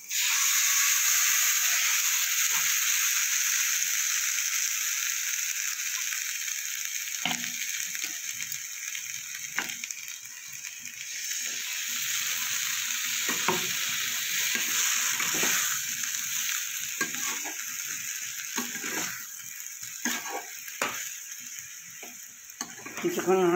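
Potatoes and eggplant fry in a pan after mustard-poppy paste is added, a soft continuous sizzle broken by scraping stirs and clinks of a spatula now and then, fairly quiet throughout.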